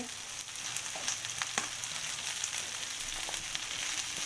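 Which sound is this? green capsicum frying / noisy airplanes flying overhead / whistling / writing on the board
green capsicum frying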